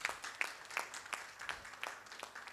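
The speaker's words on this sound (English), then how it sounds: "Please give a big round of applause" Audience applause during a felicitation at an industry conference panel session, a faint, thin round of scattered clapping heard from a distance with distinct individual claps.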